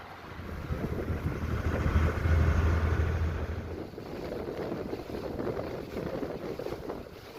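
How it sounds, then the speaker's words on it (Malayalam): Tourist houseboats on the Kerala backwaters between Kottayam and Alappuzha, heard as a continuous low engine drone with wind buffeting the microphone and a faint wash of water throughout. "ഇതൊക്കെ ഹൗസ് ബോട്ടുകളാണ് കേട്ടോ, പ്രൈവറ്റ് ബോട്ടുകളാണ് ടൂറിസ്റ്റുകളുടെ."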